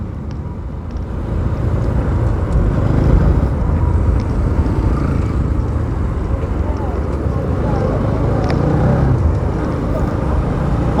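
A Bajaj Pulsar NS200 motorcycle is ridden through Lalitpur, its engine a loud, close, continuous drone mixed with rushing wind noise that holds steady for the whole stretch.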